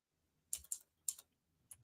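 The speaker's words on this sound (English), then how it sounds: "Typing." Close, quiet keystrokes on a computer keyboard in a few short bursts of two or three clicks, separated by silence.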